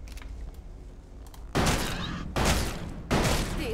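Gunfire in the video game ELEX 2: after a quiet stretch, three loud broadband shots land about three-quarters of a second apart, each a sharp blast with a long, noisy tail.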